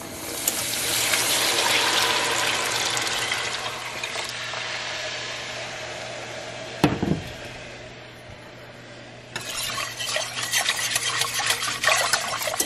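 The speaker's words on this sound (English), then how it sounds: "Now we're gonna add 6 cups of that broth." Broth pours from close by into a pot of cooked butter and flour roux, a steady gushing stream that tapers off before a second burst of liquid splashing and sizzling.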